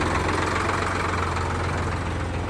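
An Indofarm 3055 tractor engine idles close by with a steady, even diesel rumble and a faint knocking throb, running without pause and with no voices.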